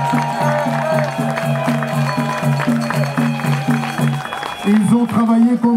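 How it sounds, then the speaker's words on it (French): A large rally crowd in Brussels claps and cheers loudly and steadily, with rhythmic chanting pulses running through the applause. "Je voudrais que tous ensemble nous applaudissions ces jeunes et nous les félicitions."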